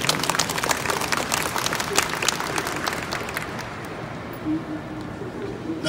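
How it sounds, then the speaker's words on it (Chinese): An audience applauds at a railway press conference at Taipei Main Station, with dense, steady clapping that gradually thins out and fades toward the end. "我们是不是给我们大家掌声鼓励一下"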